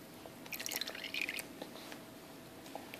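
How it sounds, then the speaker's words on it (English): Thick yogurt mixture spooned and poured into a crockpot, giving soft wet plops and squishy drips in a short cluster, close and fairly quiet, with no talking. "So now I'm going to add it to the crock pot."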